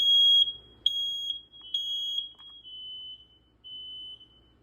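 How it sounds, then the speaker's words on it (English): A home smoke detector in a master bedroom being tested, sounding a loud, shrill electronic alarm in three close pulsing bursts, then settling into a steady piercing tone that fades slightly near the end. "now we got the master bedroom smoke detector again"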